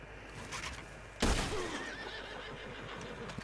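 A horse whinnies loudly and suddenly near the middle, on an outdoor hunting ground, its call trailing off into a lower, quieter neigh over a steady background hiss.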